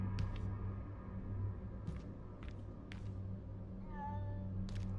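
A cat meows several times inside a building in a horror-style video game, short tonal calls over a steady low rumbling ambience.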